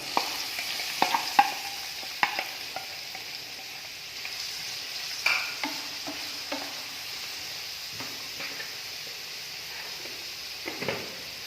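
Finely chopped onions frying in hot oil in a pan for bread pola, a steady moderate sizzle with frequent spoon scrapes and clinks against the pan, heard close with no speech.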